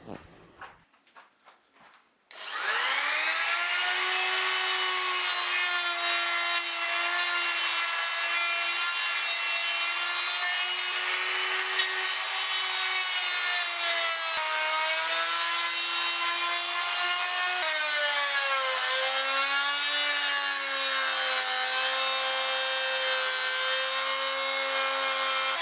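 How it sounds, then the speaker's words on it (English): Small trim router cutting a wooden guitar body in 3mm passes: a loud, steady high-pitched whine with shifting tone under load, running continuously after a brief start, no talk. "I'm just going to take the small trim router with a suitable size bit in and take this down in probably 3mm increments"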